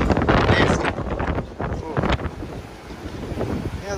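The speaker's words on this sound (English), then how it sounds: "And it's wet, windy, nasty." Strong, wet wind buffets the microphone on the open deck of a cruise ship at sea in Alaska, roaring and gusting loudly, with voices partly audible under the blustery noise.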